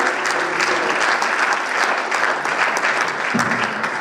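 An audience at a prophetic church gathering bursts into sustained applause, thick and continuous from start to finish, with a faint voice briefly rising near the end.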